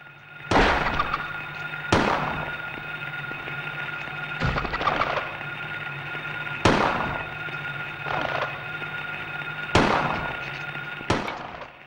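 Loud gunshots at small bug creatures in the Silent Hill video game, hospital setting, about six sharp reports spaced roughly two seconds apart with ringing tails over a steady low hum.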